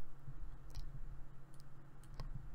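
Computer mouse clicks while working in SPSS statistics software: a few faint, sharp clicks scattered over a quiet background hum, heard alone without talk.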